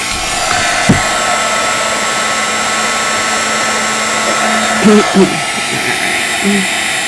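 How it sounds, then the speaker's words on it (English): A heat gun runs on a low heat setting during paper crafting over embossed work. It gives a steady, loud blowing whir throughout, with a couple of brief knocks and a short voice near the end. "I am using a low heat setting on my heat gun"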